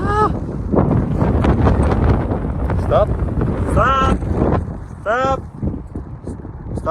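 Wind buffets the microphone with a heavy, gusting low rumble, while voices are heard over it outdoors.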